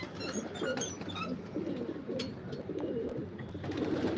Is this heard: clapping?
no